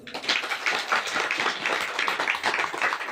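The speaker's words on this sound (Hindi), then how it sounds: "हम जोरदार तालियां बजाएं।" A church congregation at a Sunday Hindi-language service claps loudly together, a busy sustained burst of many hands with no pause.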